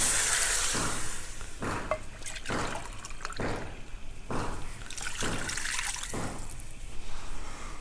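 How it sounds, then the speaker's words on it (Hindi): Two glasses of water are poured into a pan of peas fried in oil, making a splashing, trickling rush in rhythmic bursts close by, with steady sizzling underneath. "और अब इसमें हम 2 गिलास पानी ऐड कर देंगे।"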